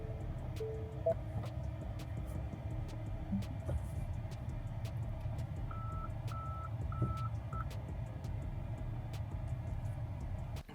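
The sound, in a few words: Tesla Cybertruck in reverse, reversing beeps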